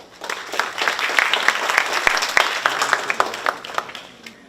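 Warm applause from a conference audience at a water day lecture series, many hands clapping in a steady wash that swells quickly, holds for several seconds, then tapers off, with no talking over it.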